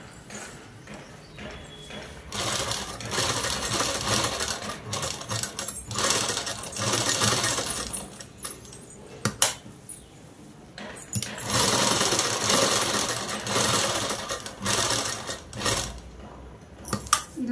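A sewing machine stitches a blouse neck design, running in long steady bursts of fast rhythmic clatter with short pauses between runs. It sits close and moderately loud, with no talk.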